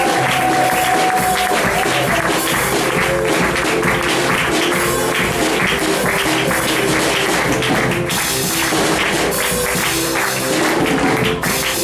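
A church congregation claps and cheers loudly to welcome a pastor, a dense continuous wall of applause and crowd noise lasting throughout, close and full.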